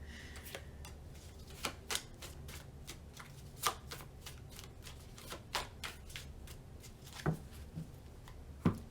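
Tarot cards shuffled by hand, with repeated crisp riffling flicks and soft slaps at an irregular pace, close and fairly quiet.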